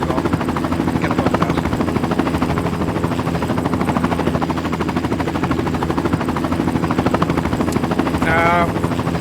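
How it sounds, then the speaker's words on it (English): Glitched helicopter rotor noise in Farming Simulator 19, a steady chopping drone that runs loud and continuous through the whole stretch, with a brief higher squeal near the end. "Now you may hear a little bit of a helicopter sound."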